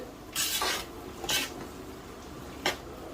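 Sweet zarda rice being mixed in a pot, heard as three separate scraping strokes, the first longer and the later two short, close by with quiet pauses between them.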